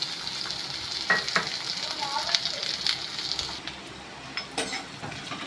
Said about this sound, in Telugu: ఫస్ట్ ఈ ఆనియన్స్ అయితే వేసేద్దాం